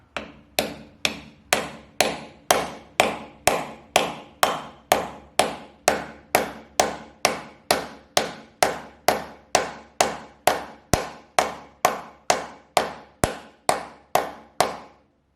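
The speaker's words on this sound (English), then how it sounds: "And then using a normal hammer," A steel hammer strikes a wooden block to drive a bearing into a Ferguson TED20 tractor, about thirty sharp, evenly spaced knocks at a steady pace, close and loud, with no talking.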